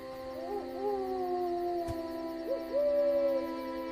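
A clear, near owl hoots in several drawn-out, wavering calls that rise and fall in pitch over a low, steady background hum, with no talk.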